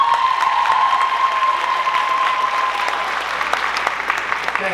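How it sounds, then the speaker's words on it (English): An audience at a Mr. Juniata college pageant event applauds the judges with sustained, loud clapping that continues throughout. "Let's give one more round of applause for our judges."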